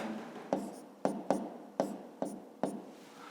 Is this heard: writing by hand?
yes